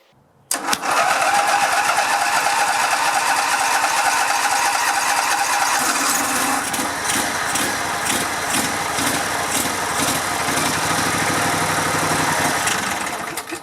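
A riding lawn mower engine with fogging oil sprayed in its cylinders cranks and catches abruptly after a brief quiet, then runs loud and steady at a smooth idle, close by with no talking.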